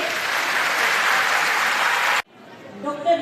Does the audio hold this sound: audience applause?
yes